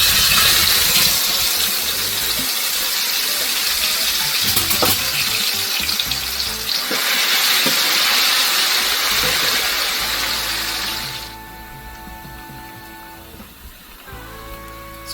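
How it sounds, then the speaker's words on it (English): Plantain slices frying in a pan of hot oil, a dense steady sizzle that runs loud for most of the stretch, then softens and thins toward the end. "So I'm going to cut this plantain and fry it in the pan."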